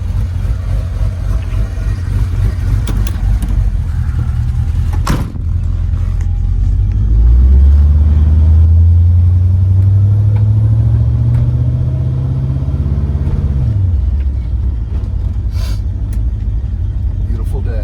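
A 1970 Camaro with a split bumper and LS V8 power drives along with a loud, deep engine rumble; the pitch climbs as it accelerates, holds, then drops as the engine eases off, over steady road noise.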